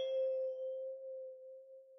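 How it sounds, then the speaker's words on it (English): A synthesized bell sample for a hip-hop production gives one clear tone with a bright struck attack, then rings on as a steady sustained pitch that fades slowly over about two seconds. "I started off with this bell."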